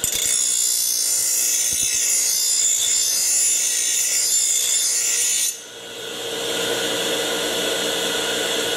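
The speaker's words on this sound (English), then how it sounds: "So you turn the bench grinder on, and you're going to have to follow this 40 to 45 degree angle." A bench grinder sharpens a lawn mower blade at a 40 to 45 degree angle, a loud, steady, harsh grinding rasp that shifts to a duller tone partway through, with no talking.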